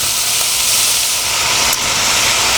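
Double smoked bacon fat renders in a pan, giving a loud, continuous, close sizzle and hiss that holds steady throughout with no talking.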